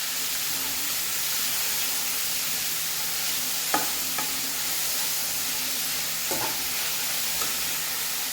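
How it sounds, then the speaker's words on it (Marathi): Fresh spinach dropped onto golden-brown garlic in a hot pan for hotel-style lasooni palak, a steady loud sizzle and hiss of frying with a few sharp clinks and scrapes of stirring. "त्याच्यामध्ये मी आता पूर्ण पालक टाकते आहे. पालक टाकल्यानंतर तो आपल्याला चांगला हलवून घ्यायचा."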